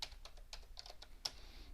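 Quick keystrokes on a computer keyboard as a web domain name is entered into a browser, a short burst of light irregular clicks at close range, with one sharper tap near the end.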